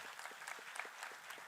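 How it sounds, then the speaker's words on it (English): Scattered audience clapping at a memorial lecture hall in Pune, a short burst of fairly faint, uneven claps heard alone without talk. "can we clap him?"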